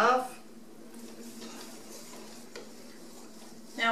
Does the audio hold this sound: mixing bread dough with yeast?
yes